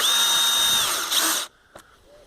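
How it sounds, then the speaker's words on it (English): A power drill whirs loudly as it drives a self-tapping screw into wood, then stops abruptly, followed by a brief click and quiet. "as I'm going straight into wood, I'm just using some self-tapping screws"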